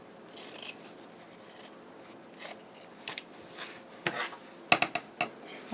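Scissors make a few crisp, close snips trimming the fabric edges of a finger pot holder, quiet at first and growing sharper toward the end, with no speech.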